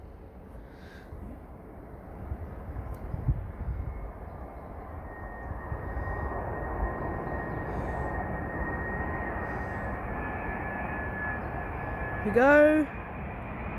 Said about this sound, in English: This is a British Airways 787-9! My favourite plane has just landed